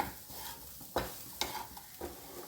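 Fried chicken and egg are stirred together in a pan, with three sharp scraping strokes of a utensil over a soft, low sizzle.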